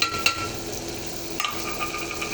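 Tomatoes with coriander powder, turmeric and biryani masala sautéing in a pan, a close continuous sizzle broken by a few sharp clinks and scrapes of stirring.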